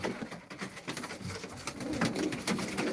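Pigeons coo softly at a live pigeon auction, giving low throaty warbles that repeat one after another and blend with faint background murmur.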